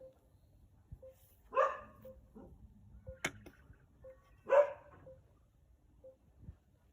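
A dog barks twice outdoors during land surveying, short separate woofs a few seconds apart, moderately distant against a quiet background with scattered small clicks.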